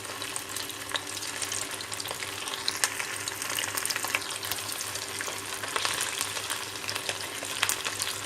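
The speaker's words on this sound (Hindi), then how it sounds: "देखो, तल के कैसा हो गया। 2 मिनट लगे तलने का।" Prawns frying Konkani style in a pan, a dense, continuous hiss and crackle of hot oil heard up close, with occasional stirring clatter and no voices.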